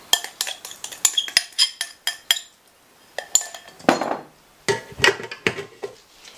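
Eggs and sugar being beaten in a bowl, rapid bursts of metallic clinks and taps as the whisk strikes the bowl, pausing briefly before resuming in uneven clusters.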